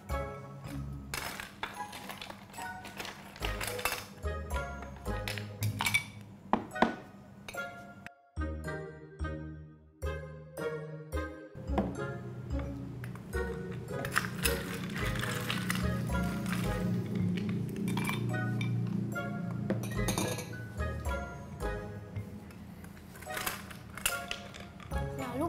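Ice cubes drop into drinking glasses with scattered clinks and taps against the glass, two at a time into five glasses, over bright background music that runs throughout.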